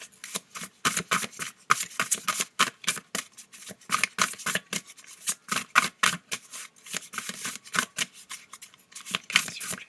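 A deck of tarot cards is shuffled close by, a continuous rapid riffling flutter of stiff cards in bursts with brief pauses, loud and without talk.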